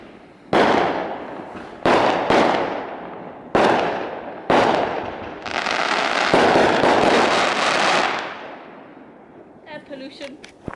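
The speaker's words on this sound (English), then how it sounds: "Fireworks." New Year 2021 fireworks over London or Sheffield: four loud separate booming bursts, followed by a long sustained crackling barrage that fades away, with faint voices nearby at the end.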